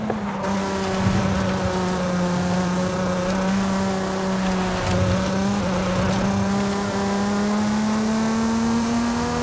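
A Mazda Miata drives through dark woods at the base of a volcano in Forza Horizon 5, its engine holding a steady droning hum with slight pitch rises and falls as it cruises, loud and continuous.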